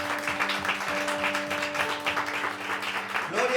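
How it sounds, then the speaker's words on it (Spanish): A church congregation applauds during a Spanish-language service, a dense, steady wash of many hands clapping at once, held at a fairly even level throughout, with sustained organ or keyboard tones underneath. "¿Cuánto le dan un fuerte aplauso al Espíritu Santo?"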